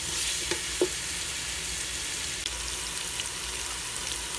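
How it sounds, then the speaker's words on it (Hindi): Onions frying in oil in a pan, making a soft steady sizzle throughout with a couple of faint stirring clicks near the start. "ऑयल पैन में डाल के अनियन को मैं थोड़ा सा फ्राई करूँगी"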